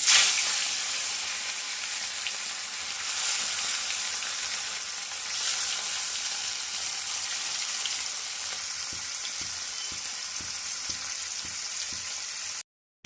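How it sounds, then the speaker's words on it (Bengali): Rohu fish pieces frying in hot oil in a wok give a loud, continuous close-up sizzle with steady hissing crackle that stops abruptly at the end. "এবার আমি একে একে সমস্ত মাছগুলো ভেজে নিচ্ছি"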